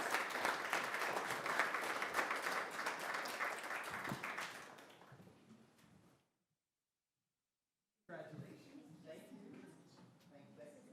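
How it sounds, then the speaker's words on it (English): Applause for the library staff fills a city council meeting room, loud steady clapping for several seconds that fades out, followed by silence and then people talking. "let's give a round of applause to our library"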